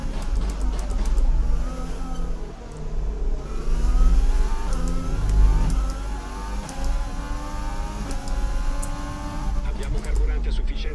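An F1 car engine revs and shifts in F1 2020, its pitch climbing and falling in steady sweeps, with someone talking over it.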